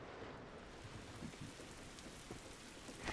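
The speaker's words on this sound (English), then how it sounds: "that sounds good. The rain on the metal." Steady rain pattering on metal during a rainy stretch of the video game The Last of Us, a continuous dense hiss that swells slightly louder at the very end, with no talking.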